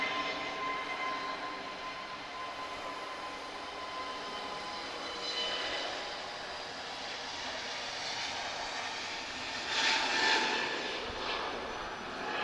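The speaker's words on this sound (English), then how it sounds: "She's an A320neo, Tango Victor Foxtrot. She's flying to Zurich." An Airbus A320neo in Star Alliance livery, bound for Zurich, moves at Lisbon Airport with a faint, distant, continuous engine rumble that swells slightly near the end.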